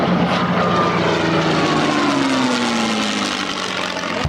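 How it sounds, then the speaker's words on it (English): A P-51 Mustang propeller fighter roars past at an airshow, a loud, steady engine drone with a slowly falling pitch as it sweeps by, with no talk. "Jeff Ethel, Red Gershler, flying the P-51"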